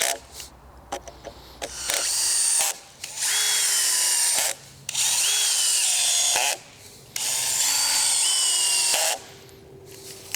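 Power drill driving screws into a wall-mounted pull-up bar bracket, several loud whirring bursts of roughly two seconds each, separated by short pauses and clicks, close to the microphone.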